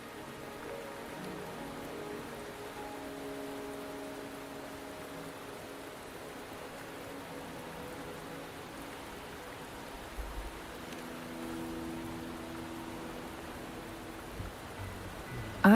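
Video game rain, a low, continuous wash of falling water with little variation, faint and steady, with soft sustained musical tones layered underneath.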